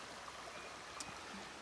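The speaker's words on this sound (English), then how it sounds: "There's the water again." Water runs in a faint, steady, continuous hiss and trickle that stays even throughout the short stretch, with no voices over it.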